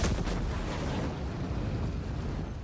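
A deep, sustained rumbling explosion from the Dark Heresy video game, loud and dense from the start and slowly fading over a couple of seconds, with no talk.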